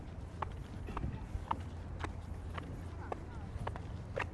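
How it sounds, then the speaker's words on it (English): Footsteps in odd hard-soled shoes that clack like a horse walking, heard on a street in a Japanese town: evenly spaced clip-clop strikes about every half second, close and moderately loud over background murmur. "Your footsteps sound like horse walking."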